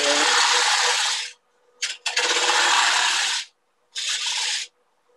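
A turning tool nibbles a wood spindle on a lathe, making three bursts of raspy scraping cut, with a brief tick between the first two and silent gaps where the tool lifts away.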